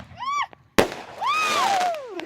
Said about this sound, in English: We're doing fireworks.